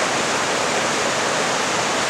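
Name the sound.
gushing Duckabush River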